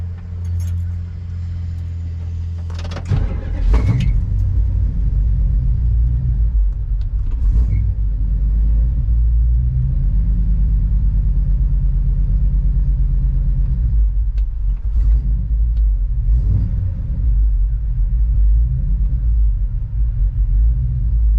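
A 1969 Plymouth Fury III engine idles in park with a steady low rumble and a deep, even throb, close and constant, with a few brief knocks and clicks near the start.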